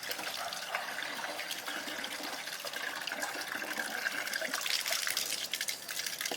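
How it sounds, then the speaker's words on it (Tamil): Water is poured generously over fish being rinsed during cleaning, a steady splashing trickle and gush with no talk, fairly quiet and continuous with small fluctuations throughout. "தண்ணி தாராளமாக ஊற்றி அலசினா தான் நல்லா இருக்கும்"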